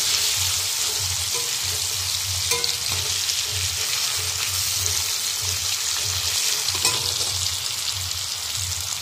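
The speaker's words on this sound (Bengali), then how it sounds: "এখানে দেখো গোল গোল করে আলু ভাজছি" Round potato slices fry in hot oil with a loud, steady sizzle that runs throughout, broken by soft rhythmic stirring and scraping, with no talking.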